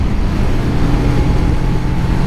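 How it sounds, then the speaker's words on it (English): A 2019 Kawasaki Ninja 650 runs at speed on the road, its engine a loud, steady drone blended with dense rushing wind noise throughout, with no voices. "It's a Ninja 650. First ride on it."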